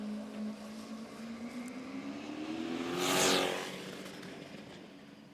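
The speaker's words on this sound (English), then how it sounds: "So with this LS powered drag bus." LS V8-powered drag bus at Willowbank Raceway in Queensland, its engine droning steadily and then swelling into a loud rev that peaks mid-clip before easing back down, with no talk over it.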